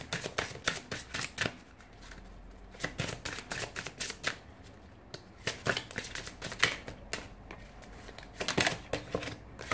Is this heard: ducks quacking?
no